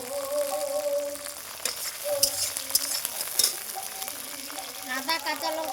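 Flattened rice (chira) with curry leaves frying in oil, a steady close sizzle with scraping stirs and a few sharp spatters, while a faint tonal background runs underneath.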